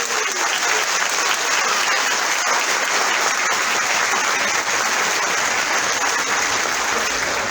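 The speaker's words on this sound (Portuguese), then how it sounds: "a nossa salva de palmas" Continuous, full audience applause at a spiritist week event in Guarujá, a dense even clatter of many hands holding steady from start to finish.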